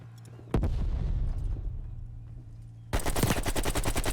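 Rapid automatic gunfire from Call of Duty: Black Ops Cold War alpha, loud and close, with one heavy shot followed by a decaying burst, then a second dense burst of fast, evenly spaced rounds.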